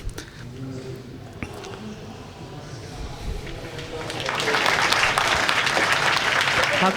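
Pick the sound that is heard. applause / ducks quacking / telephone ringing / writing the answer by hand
applause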